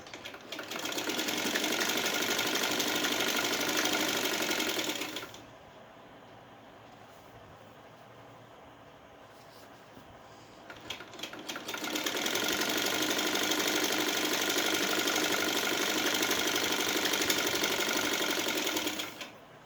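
An electric sewing machine stitching a seam on a salwar runs in two long, steady whirring passes about five seconds and eight seconds long, close and loud, with a quieter gap between them.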